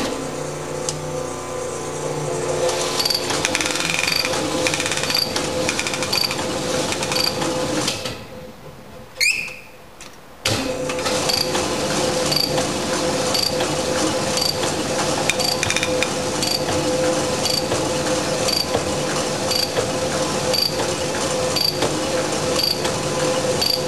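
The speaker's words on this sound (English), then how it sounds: "there's a prescribed amount of time you let this actually run to condition the cylinder" A cylinder conditioning tool runs dry inside an Alusil aluminium cylinder of a Mercedes-Benz engine, giving a steady mechanical whirring with faint ticking, briefly cut off midway before resuming at close range.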